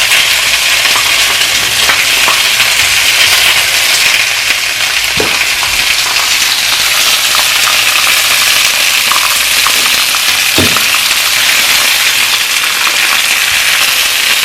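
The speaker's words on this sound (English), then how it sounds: "I'm going to brown these in different batches" Oxtail pieces brown in a pan in batches, giving a loud, continuous sizzle and crackle of hot fat with a couple of brief knocks, no talking.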